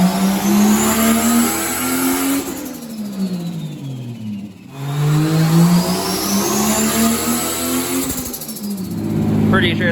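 Toyota 2JZ-GTE swapped into an IROC Camaro and run on E85 roars through dyno pulls, engine pitch climbing and falling twice with a turbo whine, loud and close, with a brief lull between runs.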